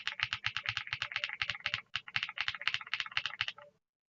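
Someone types quickly on a ReDragon K719 mechanical keyboard with its original keycaps. Close, crisp clacks come in a continuous burst for about four seconds, then stop.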